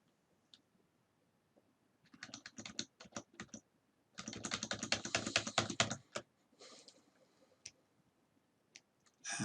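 Keys on a computer keyboard tapped to enter a command, quick clicking bursts with short pauses between runs, close and fairly quiet, no voices.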